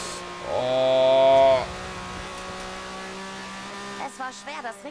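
A Lamborghini Countach in Forza Horizon 4 revs up sharply, then holds a tonal engine hum that falls back to a steady drone, with someone talking briefly near the end.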